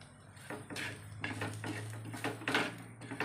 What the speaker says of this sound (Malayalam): ഇതെല്ലാം കൂടെ ഒന്ന് നന്നായിട്ട് ആ പച്ചമണം മാറുന്നത് വരെ ഒന്ന് ഇളക്കി കൊടുക്കാം